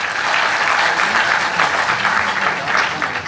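A crowd claps steadily, a dense wash of applause that holds at an even level throughout.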